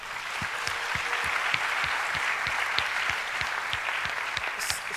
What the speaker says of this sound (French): On va les applaudir pour ça